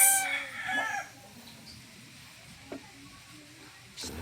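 A rooster crows loudly at the start, then faint clucks and scattered rustling follow in a quiet background.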